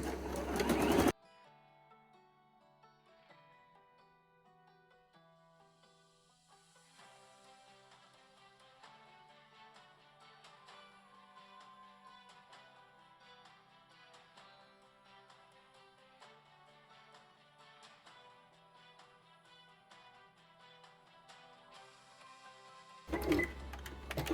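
A sewing machine runs a narrow zigzag stitch along a swimsuit neckline at a 3/8 inch seam allowance, a faint, steady mechanical whir lasting about twenty seconds over a soft tonal backdrop.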